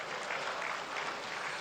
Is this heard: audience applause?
yes